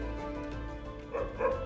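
A small injured puppy with a badly broken jaw whimpers and lets out a couple of faint, strained yips near the end, heard close up over a low steady background hum.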